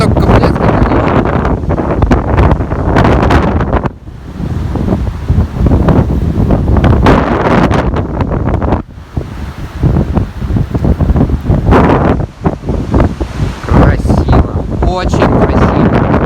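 Squall wind and a storm at the Kobuleti seaside: loud, constant roaring gusts buffeting the microphone with crashing surf beneath, nearly unbroken across the whole stretch.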